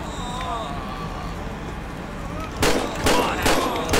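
In a GTA 5 zombie mod, someone talks over low game ambience, then several sharp, loud gunshots crack out in quick bursts over the final second and a half.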